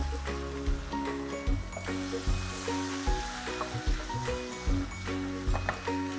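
Brandy sizzling hard in a hot pan as the alcohol burns off over a raised flame for a French-style pepper beef steak, a steady close frying hiss with bubbling bursts throughout, no talking.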